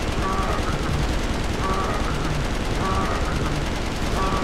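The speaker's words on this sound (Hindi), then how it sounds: "बाहर भाई गोली चल रही है बहुत तगड़ी" Heavy gunfire in GTA 5 during a zombie attack, with dense, continuous rapid bursts that run without a break and sit loud over other game sound.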